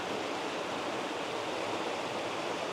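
Water pours steadily down Seven Falls, a continuous broadband rush of falling water with no break or variation, heard close and fairly loud on its own.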